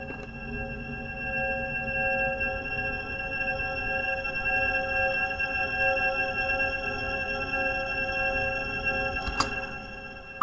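A sustained synthesizer drone of layered steady tones, faintly whistle-like, holding evenly throughout with a brief click near the end.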